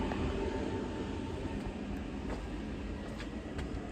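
A train rolls past, a continuous broad rumble and rush with faint wheel clicks, moderately loud and fairly close, with no talking.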